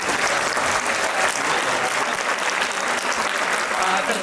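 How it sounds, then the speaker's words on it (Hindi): A seated audience rises to applaud the arrival of a visiting Hindu swami at a youth talk, steady dense clapping filling the hall for several seconds without a break. "म सबैलाई उठेर तालीको साथमा स्वागत गर्छु"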